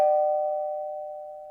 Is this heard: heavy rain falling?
no